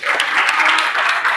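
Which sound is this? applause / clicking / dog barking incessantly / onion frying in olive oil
applause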